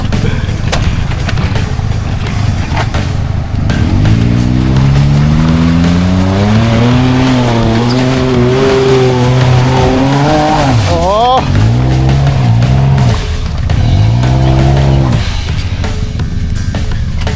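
Suzuki Jimny engine revving hard in repeated rising surges as it struggles and fails to climb a steep forest trail in Hokkaido, loud and close, with voices talking over it.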